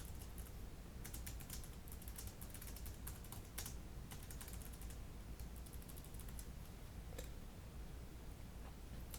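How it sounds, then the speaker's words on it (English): Keys clatter in quick, uneven bursts of typing on a Dell Latitude D600 laptop keyboard, soft and close, with brief pauses between runs of taps. "let's just try typing something."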